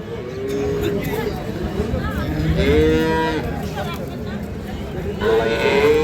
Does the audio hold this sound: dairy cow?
yes